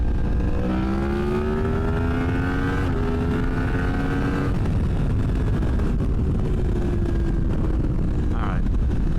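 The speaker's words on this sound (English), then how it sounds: "I'm gonna jump on the gas just a little bit here." A motorcycle engine revs up hard on the throttle while riding, its pitch climbing in two long pulls against steady wind rush and road noise.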